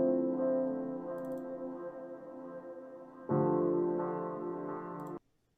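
Piano chords play alone, one sustained chord then a louder one struck around midway, ringing out before cutting off abruptly.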